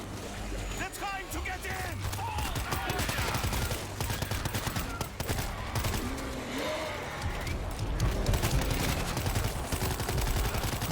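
Pistol and assorted gunfire in the zombie shooter World War Z, dense and continuous at a steady loud level, with a voice talking over the shooting throughout.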